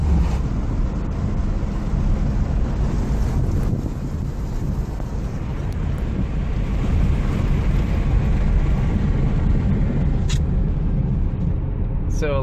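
A car bought from Copart drives along with steady road and wind rumble under the whole stretch, broadband and continuous at a constant level, with faint talk mixed in.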